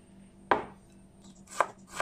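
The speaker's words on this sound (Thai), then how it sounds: "จากนั้นก็เอากระชายนะพี่น้องมาหั่นเพื่อที่จะให้ปั่นง่ายนะ" Knife chopping fresh fingerroot (krachai) on a board: one sharp, close cut followed by two more quick chops, each crisp and distinct with quiet pauses between.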